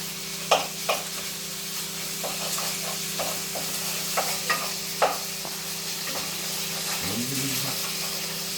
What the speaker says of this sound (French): on la remue pour mélanger avec les oignons et les épices